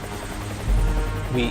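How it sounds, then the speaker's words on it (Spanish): Helicopter rotor noise as a Hollywood disaster-film effect, a dense continuous roar that swells midway, loud and close. "Añadimos otros 10 helicópteros."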